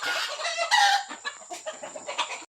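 A rooster crows and clucks nearby in short, sharp bursts, with a steady high whine in the background.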